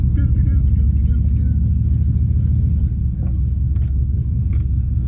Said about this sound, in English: I'm just sitting here backing up and going forward